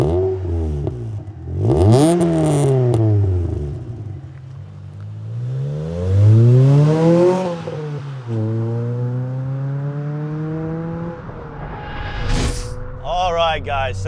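A Ford Fiesta ST150 small hatchback engine revs hard through repeated rising and falling sweeps as the car launches and accelerates, loud and close throughout, with a brief clattering burst near the end.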